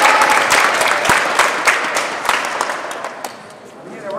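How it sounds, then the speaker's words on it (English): Applause at a youth under-12 basketball award ceremony fills the space, a dense wash of many hands clapping steadily with crowd noise mixed in, loud and close throughout. "We need a round of applause for the championship team"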